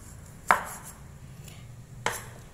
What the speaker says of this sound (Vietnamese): cây xúc xích này các bạn cũng thái ra cho mình. Mình cũng thái sợi ra như thế nhé.